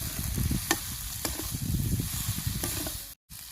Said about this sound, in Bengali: এবার খুব ভালো করে এটাকে নাড়িয়ে নেব